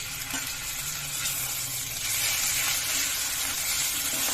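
Mustard seeds, cumin and onion frying in hot oil for drumstick sambar, a steady close sizzle with faint crackle, growing slightly louder midway.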